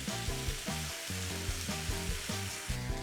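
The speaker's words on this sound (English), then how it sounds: "it's time to cook this beautiful bacon" Bacon frying in a large Lodge cast iron skillet over medium-low heat, a steady close sizzle with a bubbling crackle and soft rhythmic pulses running throughout, with no voices.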